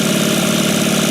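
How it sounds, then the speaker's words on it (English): A three-cylinder supercar engine idles close up with a steady, rough, lumpy throb, loud and continuous with no other sounds. "It sounds like a tractor."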